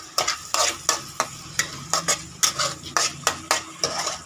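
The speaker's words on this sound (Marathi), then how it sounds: "परत फ्राय करून घ्या।" Mutton masala being fried and stirred in a pan, with a fast regular series of loud scraping strokes of a spoon against the pan over a constant sizzle, close up and with no speech.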